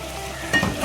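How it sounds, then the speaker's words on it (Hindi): Chicken and ridge gourd curry masala with a spoonful of yogurt fries in a pan over medium-low heat, a steady soft sizzle with one short stirring scrape near the end and no talking. "हम भून लेंगे"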